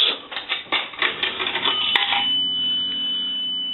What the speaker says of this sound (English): We want to take a nickel, and that's going to ring the bell once.